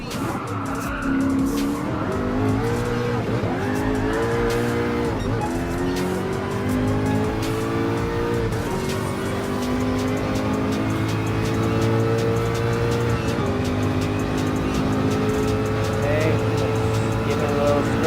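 Group C prototype race cars, including a Toyota TS050 Hybrid, roar continuously in Gran Turismo Sport with rising and falling engine notes, gear shifts and tire squeal through corners, loud and close throughout.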